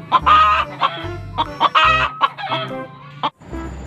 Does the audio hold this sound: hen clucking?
yes